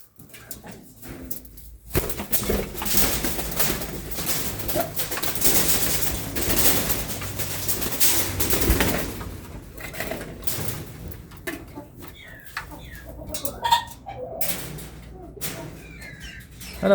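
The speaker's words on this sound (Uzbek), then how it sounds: "Mana qirg'avullar bor." Birds for sale at a bird market where pheasants are kept, with cooing and calls from caged birds over a busy, noisy ambient bed and occasional sharper chirps.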